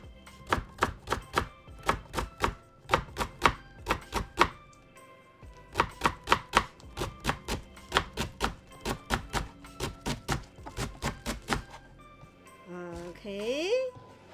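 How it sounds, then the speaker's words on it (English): A knife slices through washed napa cabbage on a cutting board for dumpling filling, giving crisp, steady rhythmic chops in close, loud bursts with short pauses, ending with a brief squeaky scrape. "Okay, now let's cut into small pieces. Slice them first."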